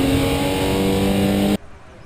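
A Porsche race car engine roars on board during a BRSCC race at Zandvoort, a loud sustained high-revving howl with strong harmonic tones that cuts off abruptly, leaving only faint background noise.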